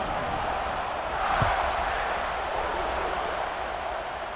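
A stadium crowd in the College Football 26 video game roars at kickoff, a broad, steady wash of massed cheering with a brief swell in the middle, loud and continuous with no one speaking.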